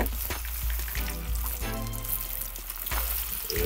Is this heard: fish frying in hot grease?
yes